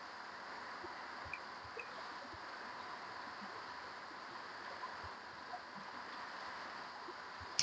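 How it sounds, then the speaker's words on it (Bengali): A piece of boal fish fries in mustard oil, giving a faint, even, rain-like hiss with scattered small pops and spatters. "মাছটা খুব ছিটকাচ্ছে"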